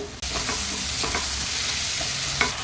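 Crushed peanuts and coriander being sautéed in a kadhai for baingan bharit, a constant close sizzle broken by several spoon scrapes and clinks, no voices.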